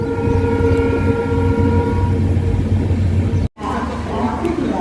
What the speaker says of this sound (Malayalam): മടിക്കാവ് റെയിൽവേ സ്റ്റേഷനിലേക്ക് ട്രെയിൻ എത്തിയിരിക്കുകയാണ് കേട്ടോ